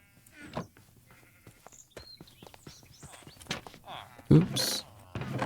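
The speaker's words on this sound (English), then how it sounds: "Some more sheep down there." Sheep in modded Minecraft (Prominence II) bleat several times among footstep clicks and game effects, with a player talking over them.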